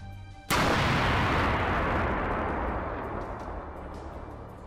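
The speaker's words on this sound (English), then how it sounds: "Russian forces dropped 2 glide bombs on Kharkiv, Ukraine's second-largest city" Russian glide bomb striking Kharkiv, a single sudden massive blast followed by a long, rumbling roar that slowly fades over several seconds, no voices.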